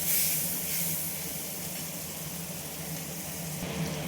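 Chopped onion frying in hot oil in a home kitchen pan, a continuous broad hiss and sizzle holding steady throughout without speech.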